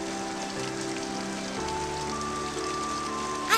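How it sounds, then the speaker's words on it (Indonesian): Rain falling steadily, a dense continuous hiss of drops on surfaces, with faint steady tones underneath and a brief louder patter at the end. "Ya Allah, semoga hujan ini bermanfaat."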